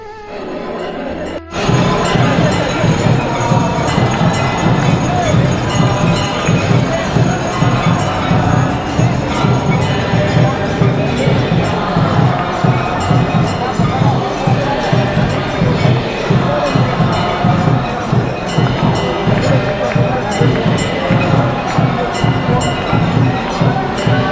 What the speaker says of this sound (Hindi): यहाँ पे भीड़ बहुत ज़्यादा हो जाती है